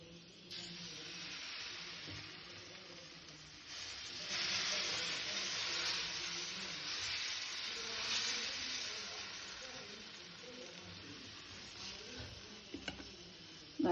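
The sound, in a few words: kanda (elephant yam) attu batter sizzling on hot pan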